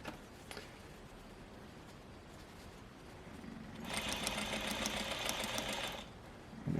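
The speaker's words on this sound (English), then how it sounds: "And then sew down the kick pleat and back stitch at the end." Sewing machine stitches down the kick pleat of a skirt: a short whirring run of about two seconds after a few quiet clicks, nearby and fairly loud, then stopping.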